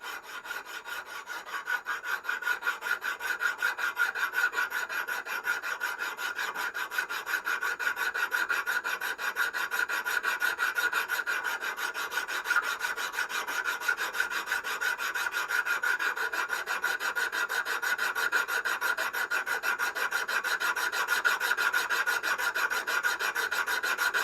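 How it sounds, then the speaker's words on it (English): A regular flat file rasps across a vintage spokeshave clamped in a vise, giving a continuous run of fine, even scraping strokes that stay close and steady, with no talking. "so I'm going to do a file first, just a regular flat file here"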